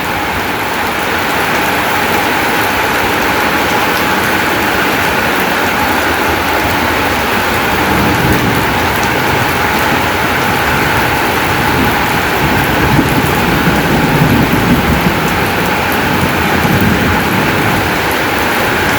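Heavy rain pours steadily beside the wall of an old house, a loud, unbroken hiss with a low rumbling undertone that lasts throughout with no break.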